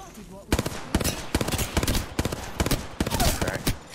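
Gunshots in the game Apex Legends, a series of sharp, repeated shots and short bursts at moderate level with quiet gaps between them, and a voice talking alongside.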